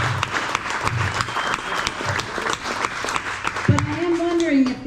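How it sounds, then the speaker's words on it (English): A crowd at a store's anniversary event applauds warmly for several seconds, with a steady, dense clapping and a voice speaking over it toward the end. "huge round of applause and bring Les to the stage."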